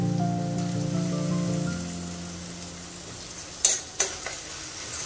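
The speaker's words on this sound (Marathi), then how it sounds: "आपण आता ह्यामध्ये टोमॅटो टाकून घेऊयात।" Chopped tomatoes go into a pan for paneer bhurji and fry with a steady, close sizzle that fades, followed by a few sharp spoon clinks against the pan, with no voices.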